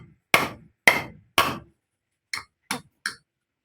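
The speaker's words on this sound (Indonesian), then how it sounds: "Mbok tutuk sing palu sing gedhi kuwi arang" Six sharp hammer blows on a nail, three heavy strikes followed by three lighter, quicker taps, each ringing briefly and close by with no talk.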